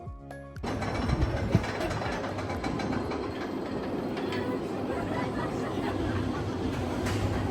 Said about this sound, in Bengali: এই হচ্ছে আমাদের আজকের প্রথম রোলার কোস্টার